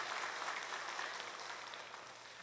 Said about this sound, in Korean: 우리 큰 박수로 축복해 주시면 좋을 것 같아요.